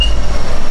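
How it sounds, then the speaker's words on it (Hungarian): Turbocharger on a project car being tuned with an anti-lag system blows with a brief, loud, steady rushing roar and deep low rumble up close. "Fúj a turbó."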